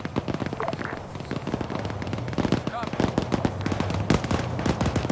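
Rapid machine gun bursts crackle through a military infantry video game firefight, dense repeated shots with scattered explosions over a busy battle ambience, with radio-style voice chatter underneath.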